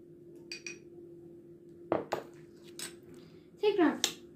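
A spoon stirs a baking soda mixture in a container for a homemade volcano, giving a few sharp, scattered clinks with brief voice sounds between them.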